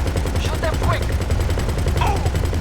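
Continuous rapid gunfire from the GTA Online video game, aimed at a Titan plane, forms a dense, loud rattling bed with brief whooshing and whistling effects layered over it.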